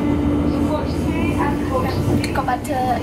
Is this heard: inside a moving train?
yes